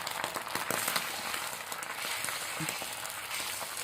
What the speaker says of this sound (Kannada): ಇವಾಗ ಅವನಿಗೆ ಆಮ್ಲೆಟ್ ಮಾಡಿಕೊಡ್ಬೇಕಂತೇಳಿ ನೋಡ್ರಿ ತತ್ತಿ ಹೊಡ್ಕೊಂಡು ಹಾಕೊಂಡಿನಿ ಇವಾಗ ಸ್ವಲ್ಪ ಎಣ್ಣೆ ಹಾಕಂತ